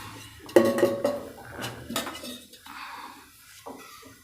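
A metal spoon clinks and scrapes around a steel bowl while mixing flour into boiled chickpeas for chana bhakhari, with sharp close knocks at first and then softer irregular stirring.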